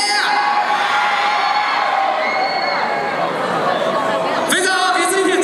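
A student concert crowd at a university welcome-night show in Tainan cheers, whoops and shouts in one loud, sustained roar, with a sharper burst of screams near the end.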